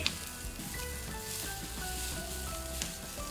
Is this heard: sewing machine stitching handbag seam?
no